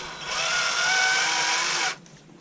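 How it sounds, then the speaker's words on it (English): A cordless drill fitted with a small bit whines steadily at high speed for about two seconds during a Egnater Tweaker 15 amplifier repair, close and loud, then stops abruptly. "Excuse me, that's the drill."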